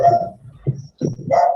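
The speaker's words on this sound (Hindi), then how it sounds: "कुत्ता भौंक रहा है" Dog barking outdoors, heard during a quiet open-eyes meditation session: a few loud, close-sounding barks and yelps in irregular bursts with a brief pause between them.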